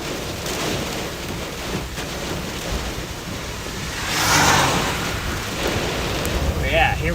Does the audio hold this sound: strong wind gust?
yes